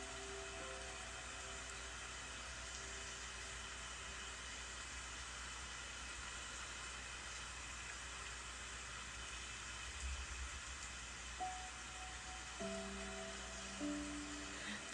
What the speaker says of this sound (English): The sound of rain is from the YouTube.